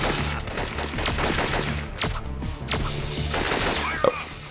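Rapid automatic gunfire in the Syphon Filter video game, sustained loud bursts of shots with a few sharper cracks, continuous and dense throughout.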